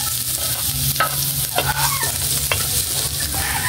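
Garlic sautéing in a hot pan for a pork giniling menudo, a steady close sizzle with sharp scraping stirs of a utensil every half second or so.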